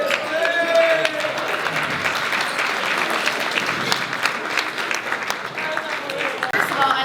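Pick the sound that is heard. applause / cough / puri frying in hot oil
applause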